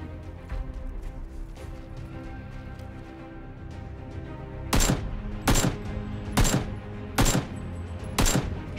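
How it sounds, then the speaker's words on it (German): Five loud, sharp gunshots ring out at regular intervals over a steady low background hum, after a stretch of quieter ambient noise, in the video game PUBG. "Schuss, Treffer."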